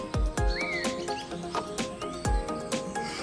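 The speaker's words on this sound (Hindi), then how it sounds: "बुलबुल ने नगमा छेड़ा तो हवा भी रुक सी गई" A cartoon bulbul sings in bright chirps and a rising whistled trill over a music track with repeated sharp percussive hits.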